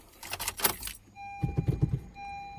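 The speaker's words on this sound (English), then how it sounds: "I heard the fuel pump, so we're in good luck." A Honda Civic 2.0L fuel pump priming with the key on gives a steady faint electric whine, accompanied by rustling and clicks inside the car.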